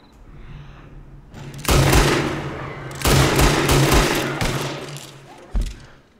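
Gunshots ring out in the video game Red Dead in loud rapid bursts, with two long clusters of shots and a final single blast near the end, over a low droning background.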